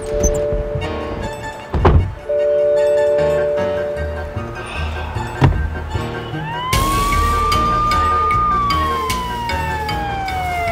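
A rising and falling siren wails over music and a steady rumble, with a couple of heavy thuds before it.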